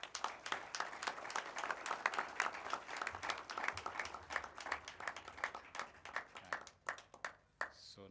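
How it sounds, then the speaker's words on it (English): Applause at a graduation ceremony at Absa Bank Sports Club: a crowd claps steadily in a dense round that thins out toward the end into a few scattered, separate claps. "I think we need to give a big round of applause to all of us."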